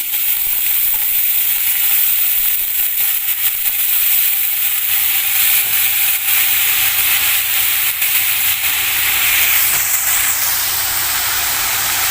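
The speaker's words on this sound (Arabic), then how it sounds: "هنا حله على النار طبعا ناشفه، حطيت فيها بتاع 3 معالق زيت كده. هنا كده انا هحط السبانخ" Loud, steady sizzling and crackling of spinach frying in hot oil in a pot, a dense continuous hiss throughout with no voices.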